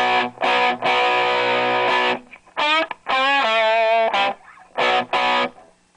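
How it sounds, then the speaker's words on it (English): An electric guitar plays through an amp with natural distortion and a dual master volume, loud sustained overdriven chords and single notes in short phrases separated by brief gaps. "So here's some regular natural amp distortion."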